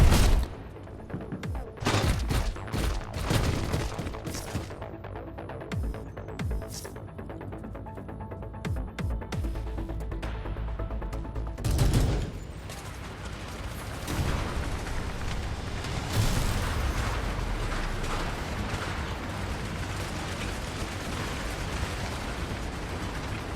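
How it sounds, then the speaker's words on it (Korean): Heavy, chaotic gunfire and explosive bursts from a battle in the video game Girls' Frontline 2, with dense volleys and booms continuing loudly throughout, sharp impacts early and a sustained roar later. "미스티, 사격 중지"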